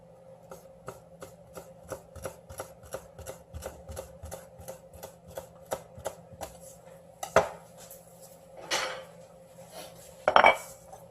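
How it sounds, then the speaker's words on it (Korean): A knife slices gizzard shad on a board in a steady run of about twenty crisp, evenly spaced cuts, close and clear, then a few heavier scraping knocks toward the end. "엄마 이거 그만 쫙쫙 썰어준다"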